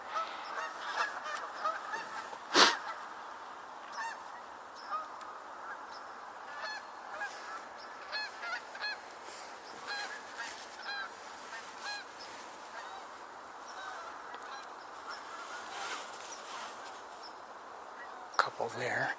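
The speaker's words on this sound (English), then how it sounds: "Well, it sounds like there might be more geese coming in." Geese honking as they fly in, a continuous chorus of distant calls with a few louder honks, heard outdoors with soft talk in the background.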